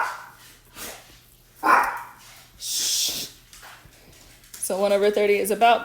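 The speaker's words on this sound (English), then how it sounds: "I am sorry about my dogs today." Dogs bark and yip in a few short, sharp bursts near the end, after a person speaks calmly.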